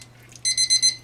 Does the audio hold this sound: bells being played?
no